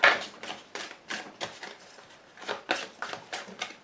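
Tarot deck being cut and handled, a series of soft papery card riffles and taps, close and fairly quiet, in an irregular rhythm of about a dozen short strokes.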